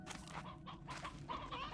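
Stony hens cluck in bursts in Slime Rancher 2, a quick string of close, fairly quiet game-animal clucks over a low ambient bed.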